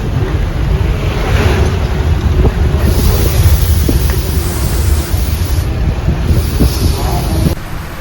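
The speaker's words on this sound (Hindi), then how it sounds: "ये रही सतलज रिवर" The Satluj river flows alongside in a strong, rushing wash mixed with heavy wind buffeting, loud and continuous, with no talking.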